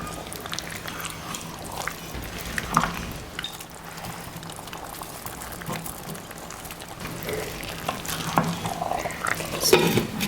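Beef is stirred into Old Dhaka-style tehari rice in a large pot, with soft, irregular scraping and clinking of a spoon against the metal and faint sizzling underneath, close and moderately quiet.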